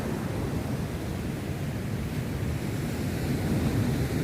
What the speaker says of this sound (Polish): Patrzcie jakie fale.